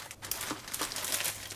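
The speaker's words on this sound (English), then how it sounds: "even better if you could put it in a plastic bag" Plastic bag crinkling around an ice cream container, a short burst of close, rustling crackles lasting about a second and a half with no talking.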